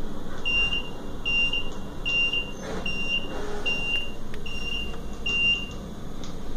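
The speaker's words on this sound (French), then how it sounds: "En cas d'incident détecté dans votre compartiment, vous entendrez ce signal." A Eurotunnel shuttle's emergency alarm signal sounds as a rapid series of sharp electronic beeps in repeating bursts, loud over the low rumble inside a car on the train.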